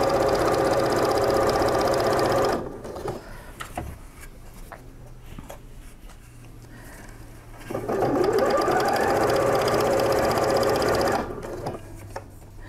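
A sewing machine stitches binding onto a patchwork piece in two steady close bursts of rapid whirring with a low motor hum, separated by a quieter stretch of faint handling noises.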